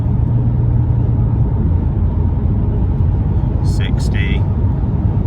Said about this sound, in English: I'm going to lock the car in 5th gear using the manual mode, and we'll use full throttle